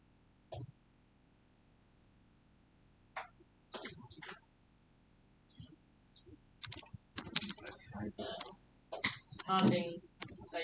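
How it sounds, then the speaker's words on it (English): Scattered clicks on a computer keyboard arrive in short irregular bursts that grow denser toward the end, with brief sounds from a person mixed in. "Typing."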